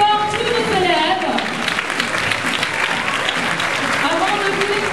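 An audience at a dance school show applauds its students, a loud sustained wash of clapping with voices and cheers mixed in over several seconds.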